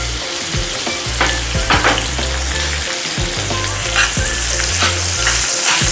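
Okra sizzles steadily in a hot pan while being stirred, with repeated scraping and clattering strokes of a spoon through the frying vegetable. The sizzle is loud and close, and no one speaks.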